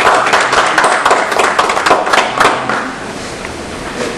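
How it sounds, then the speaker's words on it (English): A university lecture audience claps in welcome, dense close applause that starts strong and slowly thins out over a few seconds. "So if we could please welcome her with a round of applause."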